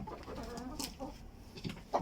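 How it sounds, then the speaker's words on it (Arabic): A farm hen clucks in short, repeated bursts after laying an egg, close and fairly quiet, with a few sharper calls toward the end. "دجاج من يصيح هيجي"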